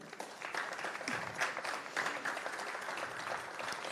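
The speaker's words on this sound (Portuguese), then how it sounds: "Forte aplauso para esse." Applause at a press conference, a moderate patter of hands clapping from a modest group, uneven with a few sharper claps standing out, steady over the few seconds.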